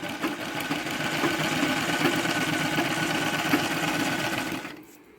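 Sewing machine stitching a fall onto a saree, a fast steady mechanical whirr close up, running continuously before stopping abruptly near the end, with no talking.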